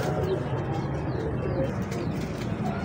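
Released pigeons coo continuously nearby amid a constant outdoor background, their soft, repeated calls filling a short stretch without talk.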